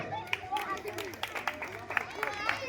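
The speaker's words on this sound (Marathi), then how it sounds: "टाळ्या वाजवा टाळ्या वाजवा" Spectators at a Ganpati festival running and langdi race event clap in scattered, uneven bursts while a voice calls out over the babble.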